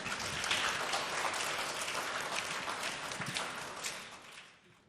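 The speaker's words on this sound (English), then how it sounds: "So please give our panelists a round of applause." An audience at a book launch event applauds the panelists with a dense, fairly quiet patter of many hands that holds steady and then fades out near the end.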